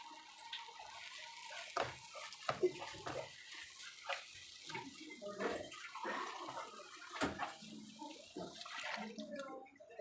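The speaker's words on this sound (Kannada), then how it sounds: "ಅದಕ್ಕೆ ನಾನು ಸ್ವಲ್ಪ ನೀರನ್ನು ಹಾಕ್ಕೊಂಡ್ಬಿಟ್ಟು ಮಿಕ್ಸ್ ಮಾಡ್ಕೊತಾ ಇದ್ದೀನಿ" Water is added to a thickening spiced masala curry for a vegetable side dish and stirred in, giving faint, irregular sloshing and scraping sounds in a quiet kitchen.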